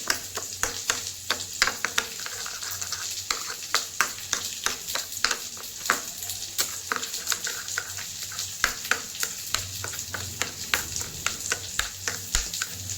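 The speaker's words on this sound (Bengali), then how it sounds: "নেড়ে দেবো" Chili chicken fries in a pan with Kashmiri chili powder while a utensil scrapes and stirs it in quick, uneven strokes. A soft sizzle runs underneath, and the whole thing is fairly quiet and close, with no talking.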